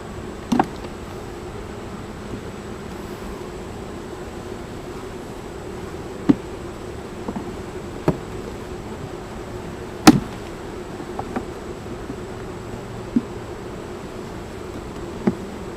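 A steady honeybee drone hums softly throughout from inside an open hive, with scattered faint clicks and taps rising briefly above it.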